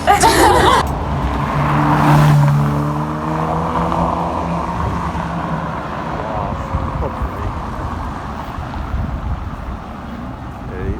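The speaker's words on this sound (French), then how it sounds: "Ça je crois que c'est la Ferrari de ce matin." A Ferrari supercar passes on a Paris street, its engine note rising and swelling as it approaches, then fading into steady traffic rumble and wind noise, with people talking over it.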